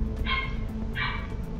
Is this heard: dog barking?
yes